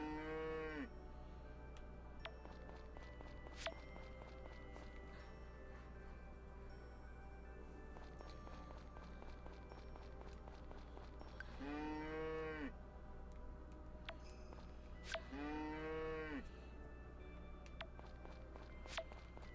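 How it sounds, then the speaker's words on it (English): Cows mooing on a farm in the game Friends of Mineral Town: two long drawn-out moos, near and clear, over a steady low hum, with light footstep sounds and small game effects around them. "That's a cow I've already milked."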